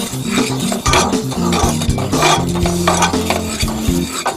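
Sugar and cocoa powder being stirred together in a saucepan, a close, busy scraping and clattering of a utensil against the pan in quick repeated strokes.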